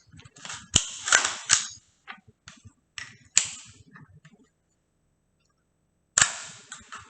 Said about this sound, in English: grab your ammunition source, send the bolt forward, and then you're good to go